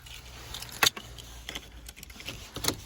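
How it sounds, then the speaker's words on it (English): Car keys for a 2020 Volkswagen Tiguan S 4MOTION jangle in short metallic bursts as they are pulled from a pocket, with a few separate clinks, close and fairly quiet. "let's go ahead and see if I can grab the key out of my pocket"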